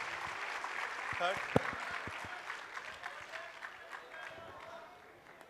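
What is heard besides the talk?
audience applause for contest winners at tech talk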